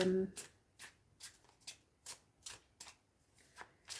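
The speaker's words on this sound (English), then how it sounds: "I need to give this a very thorough shuffling" Tarot cards riffle in quick repeated bursts, about nine crisp shuffles in a steady rhythm, close to the microphone with a quiet room behind.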